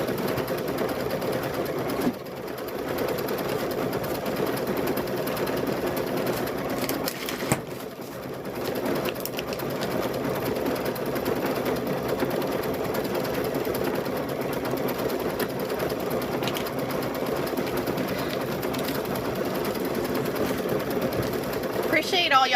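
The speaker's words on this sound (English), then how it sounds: "we'll get the eyes stitched up, and then once we get these eyes stitched up, we will we'll move on and start sewing the rest of the bear together" A sewing machine stitches the eyes onto a handmade stuffed bear, giving a steady, close mechanical whir that runs unbroken from start to finish with only slight dips.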